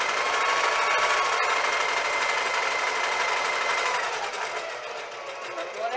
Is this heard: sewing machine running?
yes